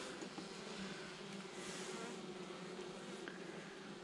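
Honeybees hum steadily at a hive in November, a dense continuous buzz with no breaks, fairly close and alone without any talking.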